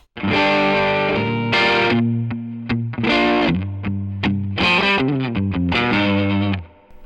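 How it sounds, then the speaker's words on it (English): Overdriven electric guitar with a Greer Lightspeed overdrive pedal and no compression, playing loud, sustained chords and short stabs, raw and gritty, ringing out between strums, alone with no talking. "So here's how the Greer Lightspeed sounds without any compression on it."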